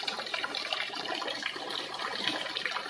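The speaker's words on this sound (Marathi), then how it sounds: "पहिलं पाणी भरलेलं होतं ते पूर्ण काढून टाकून आता दुसरं पाणी घेणार ते वापरायचं." Water runs steadily from a newly installed home drinking water purifier machine, a continuous close gushing stream filling the whole clip with no talk.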